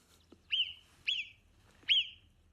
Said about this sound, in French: je vais vous faire écouter un petit cri de marmotte.